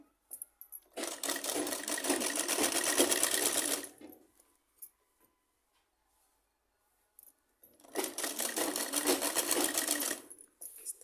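A sewing machine stitches a salwar in two close, loud bursts of rapid mechanical whirring, each a few seconds long, separated by a quiet pause with light handling of the fabric.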